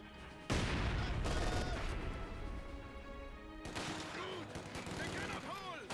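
An MG42 machine gun in the strategy game Company of Heroes fires dense, loud rattling bursts that begin abruptly and continue with short breaks, amid other battle noise, with a voice talking near the end.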